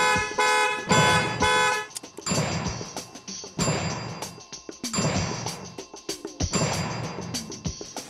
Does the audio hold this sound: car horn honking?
yes